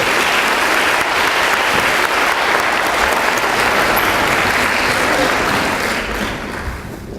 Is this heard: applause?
yes